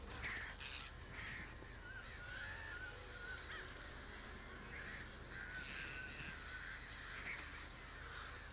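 Repeated harsh crow caws from a scene in The Conjuring horror film, several calls in an irregular series over a low rumbling background, fairly faint overall.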